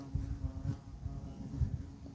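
Hornets hum around their nest in a low, dense, continuous drone, close by, with wingbeats swelling and fading as individual insects pass near.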